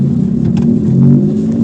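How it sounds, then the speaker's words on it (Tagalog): A loud, low rumbling car exhaust throbs steadily at close range, the engine revving slightly in a brief burst. "Mga tunog yung maiingay na tambutso"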